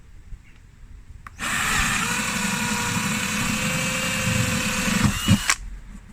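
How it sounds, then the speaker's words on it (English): A power drill fitted with a 12mm spade bit bores holes into a plastic builder's garden tub, a loud steady whine lasting about four seconds before winding down, with no talking. "drill a couple of holes underneath where the handles were."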